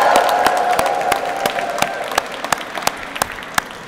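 A rally audience applauds loudly at first, and the clapping thins out into a few scattered claps near the end.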